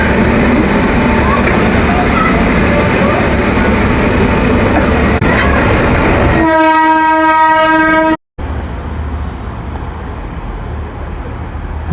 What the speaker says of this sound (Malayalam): ഇവിടെ നമ്മുടെ ട്രെയിൻ വന്നിരിക്കുകയാണ്.